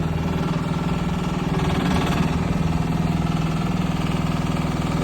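An excavator's diesel engine runs steadily and loudly while the machine slews around, a constant throbbing drone with a fine rhythmic pulse and no talking.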